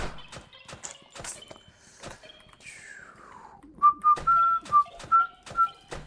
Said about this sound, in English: Is my whistle too loud on the mic?